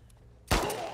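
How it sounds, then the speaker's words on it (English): A single loud gunshot from The Last of Us Part 2 on Ultra Hard cracks out midway after a quiet lead-in, and its tail rings on to the end. "Shoot him, Dina"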